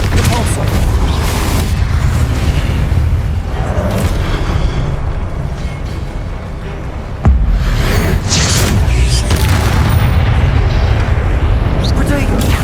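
Confringo and Depulso spell blasts in the Hogwarts Legacy video game land as loud, booming explosive bursts over continuous dense combat noise, with a sharp new blast midway through.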